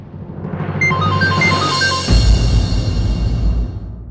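A phone ringtone for an incoming call plays a bright, repeating electronic melody at close range, then gives way to a louder dramatic music sting.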